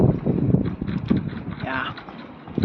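Gusty wind buffets a microphone aboard a moored sailboat, loud rumbling bursts with creaks and knocks, while a voice talks briefly.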